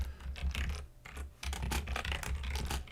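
A pen scratching across paper at close range while notes are jotted down for a board game design, with short bursts of scraping strokes and a brief pause between.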